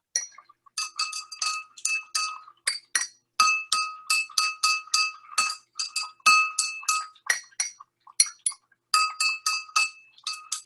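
A fork or spoon taps a container in quick ringing clinks, bright and glassy, repeated in uneven bursts of several strikes with short pauses, close and with no voices.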